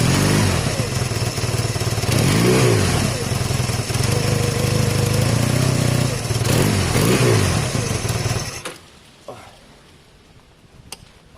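A Honda CB250 cafe racer engine revs loud and close, with several rising throttle blips over a steady idle for about eight seconds before it cuts off abruptly to near silence.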